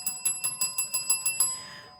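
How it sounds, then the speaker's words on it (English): A bell is struck eight times in quick, even succession, bright and close, then its ring fades out, with no talking over it, in a podcast studio setting. "Y'all know I can't live without my bell."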